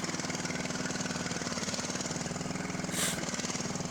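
Pulley-swapped Poulan mud mower engine with an extended ram bar runs at a steady, throbbing idle-like drone, fairly close and constant throughout, with a brief hissy burst near the end.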